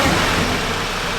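Audi S3 fitted with a ram air induction kit, engine running with a steady, loud broadband roar close to the car, no voices.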